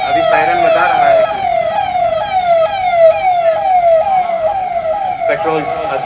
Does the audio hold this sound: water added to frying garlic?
no